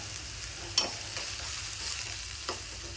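Onions and curry leaves fry in a pan with a steady, close, low sizzle, joined by a couple of brief stirring clatters and no talking.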